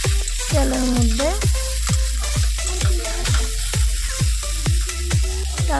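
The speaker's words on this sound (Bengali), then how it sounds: "ঝিঙ্গাটারও একটু ভাজলাম তেলের মধ্যে" Sliced ridge gourd frying in hot oil with onion in a pan: steady sizzling crackle punctuated by repeated sharp scraping and stirring knocks of a spatula, close and fairly loud, no talking.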